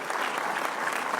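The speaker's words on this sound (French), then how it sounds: "Je voudrais que vous applaudissiez les militants." An audience at a French second-round political rally applauds, a dense, loud, continuous clapping through the short stretch.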